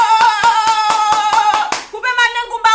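Sharp hand claps land in a steady rhythm, roughly four per second, under a loud sung melody that carries straight through the stretch.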